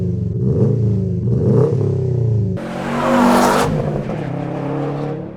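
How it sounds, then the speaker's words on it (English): A 2018 Subaru STI revs through a Blox Racing axle-back exhaust, two quick throttle blips followed by a louder, longer rev, heard up close without talk. "This is my 2018 Subaru STI, and it came with this Blox Racing axle back exhaust system"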